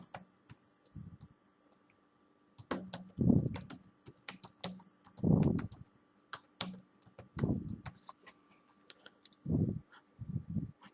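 A computer keyboard is typed on in short irregular runs of close, crisp key clicks, with pauses between bursts and faint low thumps, no speech.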